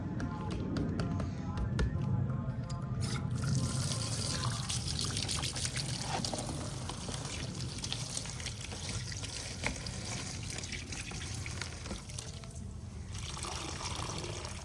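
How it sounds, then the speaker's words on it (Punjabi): Running water splashes and trickles steadily as mustard greens are rinsed by hand, a close continuous pour with faint handling noise throughout. "ਤੇ ਇਹ ਨਾ ਪਹਿਲੇ ਧੋ ਲਵਾਂ ਤੇ ਉਸ ਤੋਂ ਬਾਅਦ ਨਾ ਖੁੱਲੇ ਪਾਣੀ ਨਾਲ"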